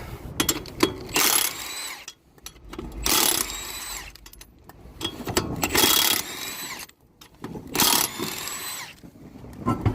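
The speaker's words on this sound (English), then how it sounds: "buzz off these lug nuts" Impact wrench rattling off car lug nuts at a junkyard, with several loud buzzing bursts of about a second each separated by short pauses, close by.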